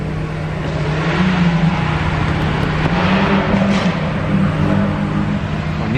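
Several cars rev their engines at a busy street car meet, a steady loud rumble with rising and falling throttle surges near the middle, carrying on continuously with no clear talk.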